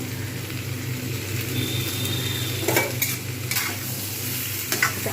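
Chopped kohlrabi sizzles steadily in a pan under a low hum, with several scraping stirs of a spatula partway through.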